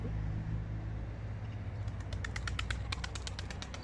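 Pigeons cooing near at hand at a pigeon-keeping spot, soft repeated coos over a low steady hum, with a cluster of sharper chirps and clicks in the second half.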